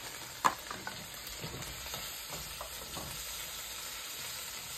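Minced garlic, green peppers and red peppers sizzle in a hot pan, a steady crackling hiss throughout with a sharp pop near the start and faint stirring clicks.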